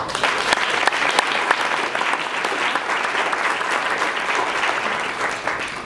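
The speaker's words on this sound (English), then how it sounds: "let's have a round of applause for the parents of these wonderful kids" An audience applauds the parents of a group of children, steady, dense clapping that fills the room at an even level for about six seconds without a break.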